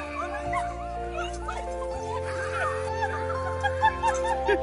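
A schnauzer named Casey, reunited with her owner after two years, whimpers and yips in high excited bursts, with a person's voice and laughter in the background.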